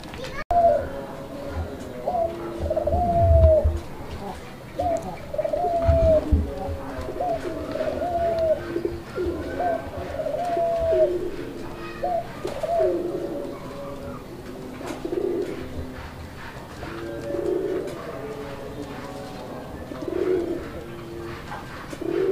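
A male Kalo Bombai pigeon coos in repeated rolling phrases close by, with a steady indoor background. Faint, scattered noise sits under the calls.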